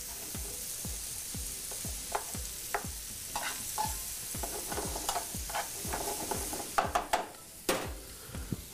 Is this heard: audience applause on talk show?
no